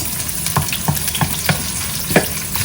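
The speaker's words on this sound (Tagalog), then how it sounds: "igigisa lang natin yan hanggang mag-brown" Barbecue chicken and onions sautéing in a pan for a stir fry, a steady loud sizzle broken by regular scraping stirs of a utensil, no talking.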